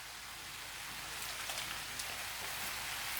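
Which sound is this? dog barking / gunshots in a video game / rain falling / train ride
rain falling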